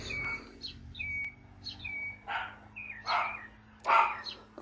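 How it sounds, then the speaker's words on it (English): A dog barks indoors in a house in the background, sharp irregular barks repeated several times at a moderate distance, with bright bird chirps between them and no talking. "I can hear the dog barking in the background."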